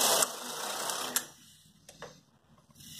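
A Brother 800 knitting machine ribber attachment, fitted to a model 820, working as the carriage runs: a loud mechanical whir and clatter for about a second, then quieter clicks and a faint rattle.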